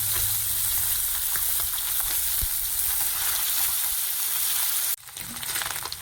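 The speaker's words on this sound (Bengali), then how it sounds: "হালকা হালকা ভেজে নেব।" Small fish, including tiny rohu fry and chala fish, shallow-frying in oil in a pan, a loud continuous close sizzle with occasional light taps, then the hiss abruptly changes near the end.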